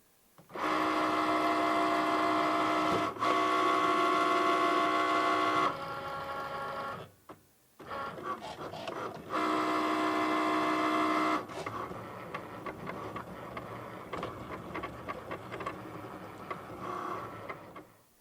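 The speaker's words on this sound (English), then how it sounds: "once that Cricut is done cutting" A Cricut machine cutting vinyl gives off a steady mechanical whir in long close runs, stopping and restarting with brief gaps, then changing into a busier, uneven motor sound.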